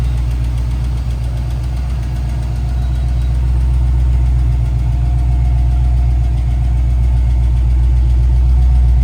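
A boxy older Chevrolet with a $300 replacement motor idles steadily, a loud and close rumble with a small rhythmic tapping under it, running continuously and alone.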